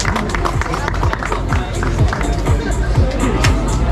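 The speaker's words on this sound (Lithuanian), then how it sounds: "Plojimai" Applause and crowd noise at a mountain-bike season awards ceremony, loud and steady throughout, with cheering and voices from the audience mixed in.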